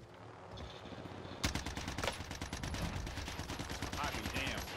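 Rapid automatic gunfire from a Warzone match starts abruptly after a quiet moment, a dense burst of close, loud shots that keeps rattling to the end, with player voices faintly underneath.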